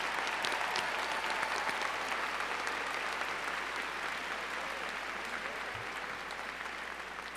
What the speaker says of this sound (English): Please join me on his final applause